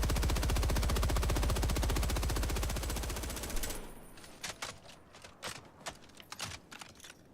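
Rapid automatic gunfire from a weapon in Helldivers 2, a dense unbroken burst for several seconds that cuts off abruptly, followed by scattered clicks and faint echoing shots.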